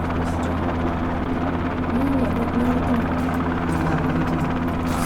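A helicopter in the Roblox game Shark Bite gives off a steady, loud droning rotor hum that runs throughout, with players talking over it.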